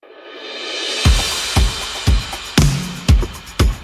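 A full drum mix for a folk worship song, with snare, clap, stomp, tambourine and shaker, punches out steady heavy beats roughly twice a second over a rising swell, loud and without voices.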